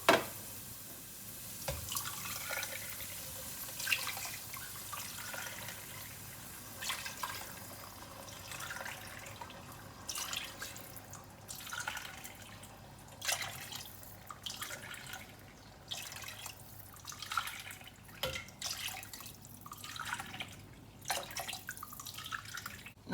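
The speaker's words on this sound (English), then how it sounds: "And now I'm going to measure around 8 cups of water" Water poured into a cooking pot, about eight cups, for a chicken pish pash; a steady splashing, trickling stream with irregular drips and clinks, fairly faint and close, with no talking.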